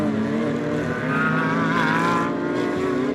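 Pirelli GT4 America race cars, including BMWs, racing at Virginia International Raceway, a loud steady engine roar with rising pitch from cars driving close by.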